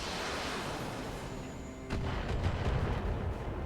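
Rockets from a long-range missile volley landing in the Battletech Advanced 3062 game, heard as a muffled rumble that swells into a heavier, crackling barrage of distant impacts in the second half.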